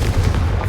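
A Confringo blasting spell explosion in Hogwarts Legacy: a short, loud, booming blast with a heavy low rumble, close and alone.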